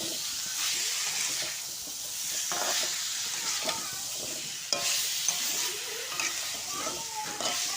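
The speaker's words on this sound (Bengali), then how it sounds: "এখন এটাকে ভালো করে মিক্স করব।" Papaya curry being stirred in a hot pan, the utensil scraping in repeated strokes over a constant sizzling hiss with a few sharp clinks.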